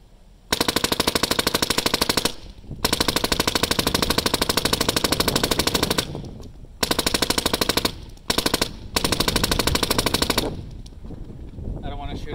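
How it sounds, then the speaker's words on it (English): A Tequila Fade Adrenalin Angel LCD paintball gun firing very rapid full bursts of sharp, loud, close pops, broken by brief pauses, with someone speaking faintly near the end. "Shoot it dry because I know I'll chop."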